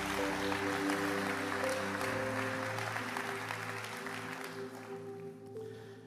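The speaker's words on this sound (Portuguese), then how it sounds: "Você pode aplaudir o Senhor?" A church congregation applauds together during a worship service, a dense, steady burst of clapping that stays loud for several seconds before thinning slightly, with sustained music or organ-like tones beneath.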